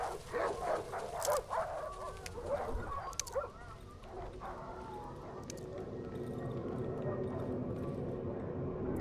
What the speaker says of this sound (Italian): Altri cani lassù.